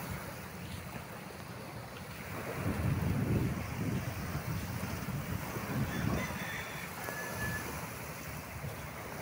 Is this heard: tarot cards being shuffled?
no